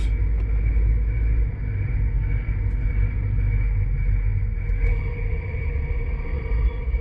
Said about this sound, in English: So I'm going to get it out on the road and we're going to apply the brakes.